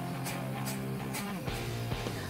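Coated chickpeas for crispy chana chilli deep-fry in hot oil, giving a dense, continuous close-up sizzle and crackle at an even level throughout, with no speech.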